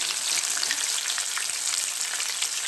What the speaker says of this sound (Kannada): ಇದನ್ನು ಮೀಡಿಯಮ್ ಫ್ಲೇಮಲ್ಲೇ ನಾವು ಫ್ರೈ ಮಾಡ್ಕೋಬೇಕು.